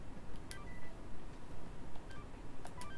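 Phone dialing and messaging beeps in the video game Catherine Classic, several short bright tones popping out in quick pairs over a low rumbling background, spaced irregularly across the moment.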